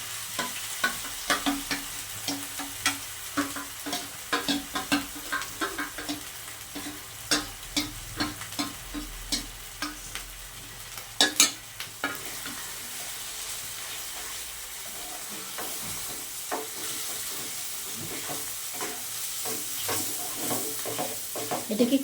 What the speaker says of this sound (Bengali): এটাকে খুব ভালো করে কিন্তু বন্ধুরা এবার নাড়তে হবে